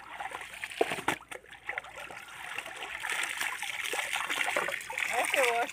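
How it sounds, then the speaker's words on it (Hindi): Clothes being washed by hand in mountain stream water, with splashing, sloshing and trickling close by, irregular wet slaps early on and a steady running-water bed throughout. "ऐसे वॉश करते हैं देहाती लोग, हम पहाड़ों में रहने वाले ना"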